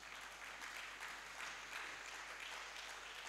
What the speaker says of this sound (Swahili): Tumpe Yesu makofi mazuri.